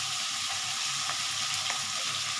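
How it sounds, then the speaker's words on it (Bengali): Turmeric and chilli powder fry in a pan for a potato and soybean curry, a constant close sizzle with a few gentle stirring scrapes, no talking. "এবার আমি আস্তে করে একটু নেড়ে দিচ্ছি।"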